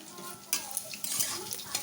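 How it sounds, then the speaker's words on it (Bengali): Garlic, black cumin and cauliflower stems fry together in a pan, a soft sizzle under sharp bursts of spatula stirring and clinks against the metal. "এবারে একসঙ্গে এটাকে আমি ভালো করে ভেজে নেব সবগুলো।"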